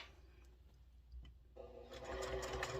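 A home sewing machine stitches fabric for a small post-it note case, running quietly at first and then louder and steady as it back-stitches; a continuous close mechanical whir with no talking.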